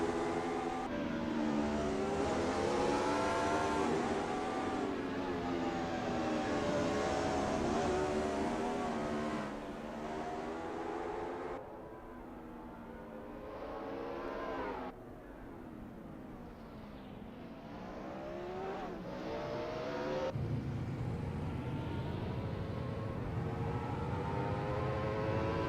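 A single race car engine on a practice outlap at Jerez in Assetto Corsa, loud and continuous, climbing in pitch through each gear, dropping at shifts, dipping briefly under braking, then pulling hard again.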